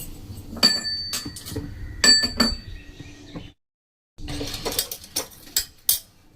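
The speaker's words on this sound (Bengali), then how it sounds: "এগুলোকে আমি হামাল দিস্তায় থেতো করে নেব" Cardamom pods, cloves and a small cinnamon stick pounded in a metal mortar and pestle, giving sharp clinking metallic strikes in irregular bursts with a short silent pause midway, up close and with no talking.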